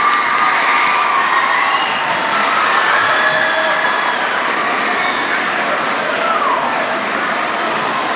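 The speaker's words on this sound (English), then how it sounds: "Can we please have a round of applause?" Audience at a school Veterans Day assembly cheers and applauds, a steady wash of clapping, shouts and children's whoops filling the hall, loud and continuous without pause.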